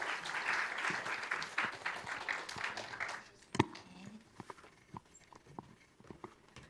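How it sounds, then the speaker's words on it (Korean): Applause greets a professor arriving for a lecture at a teachers' university event, a fairly faint patter of clapping that thins into scattered individual claps and footstep-like knocks. "조상현 교수님을 박수로 맞이하여 주시기 바랍니다."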